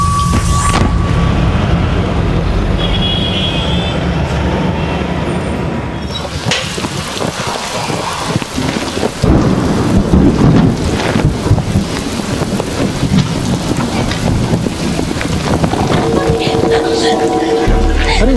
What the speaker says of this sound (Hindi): अरे उषा जी, आप बारिश छतरी के नीचे आ जाइए।